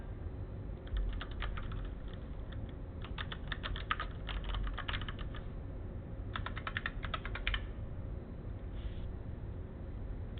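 A username and password are typed on a computer keyboard in quick bursts of close, crisp keystrokes, separated by short pauses, over a quiet room hum.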